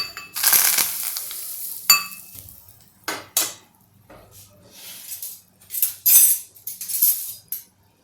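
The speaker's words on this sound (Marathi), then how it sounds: "सॅलड आपण एकत्र करून घेणार" A utensil clinks and scrapes around a bowl in irregular bursts, with moist rustling as ingredients are tossed together up close.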